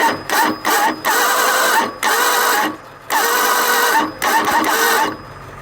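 A pony engine's starter motor cranks in repeated bursts of about a second each, loud and close, with short pauses between them.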